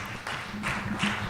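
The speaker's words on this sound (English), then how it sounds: "Yes, please clap." Audience applause at an inaugural conference, a brief patter of clapping from a modest crowd, fairly faint and uneven.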